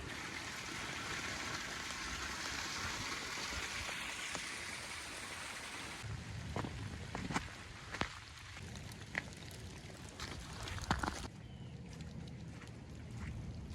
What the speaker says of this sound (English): It's gonna be raining for the rest of the day.